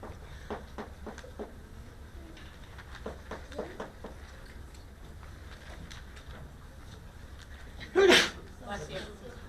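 A single sharp sneeze bursts out in a lecture room during a chemistry class, loud and brief against a background of a teacher talking and soft classroom noise.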